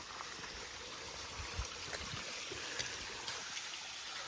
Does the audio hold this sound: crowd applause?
no